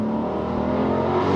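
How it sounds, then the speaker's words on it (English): Engine of a 2020 Dodge Charger Daytona Hellcat Widebody held at high revs, a loud steady supercharged roar climbing toward redline, close by and without talk. "allowing this car to redline"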